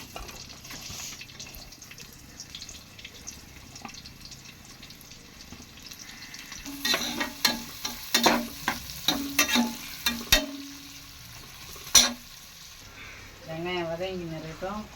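Onions frying in hot oil for chicken biryani, stirred with a steady utensil scraping and a run of sharp clanks against the pot, followed near the end by a brief voice.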